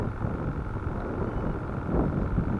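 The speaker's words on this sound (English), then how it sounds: "The wind picked up just that quick." A wind gust sweeps over a lake where people are fishing, making a steady low rumbling buffet close to the microphone, with no voices.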